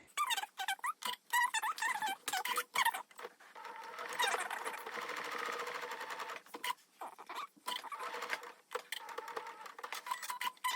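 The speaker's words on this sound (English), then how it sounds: "I'm about to top stitch this crotch in place. So I'm going to go with a straight stitch" A sewing machine topstitches the crotch of a lingerie thong with a lengthened straight stitch on tricky fabric. Close, rapid whirring bursts stop and start, with short pauses between runs.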